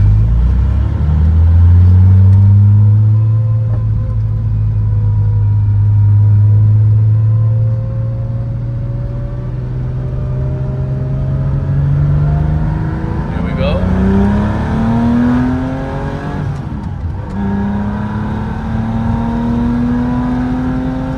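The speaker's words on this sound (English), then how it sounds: "We'll now do an open throttle, you know, second, third, a little bit of fourth, so you guys see this motor" A 1984 Porsche 911 backdated to '77 RSR/ST style is driven at open throttle through second, third and a bit of fourth, its engine rising loudly in pitch with each gear and dropping at every shift.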